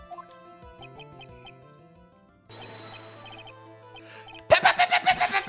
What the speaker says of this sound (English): Pigeon! Pretty pigeon!